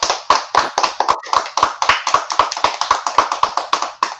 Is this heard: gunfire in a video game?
no